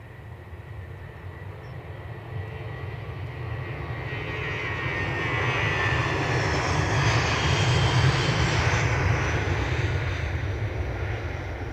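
A British Airways airliner takes off at Edinburgh Airport in calm weather, its jet engines a steady distant roar. The roar builds gradually to a loud, sustained peak and then slowly eases.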